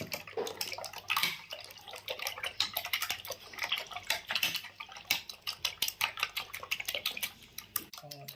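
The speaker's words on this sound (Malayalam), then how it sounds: "എന്നിട്ട് എല്ലാം കൂടി ഒന്ന് ബീറ്റ് ചെയ്തെടുക്കുക." Eggs beaten with salt and ground black pepper in a bowl for a masala omelette, a fast rhythmic clatter of a utensil against the bowl that continues throughout, close and fairly loud with no talking.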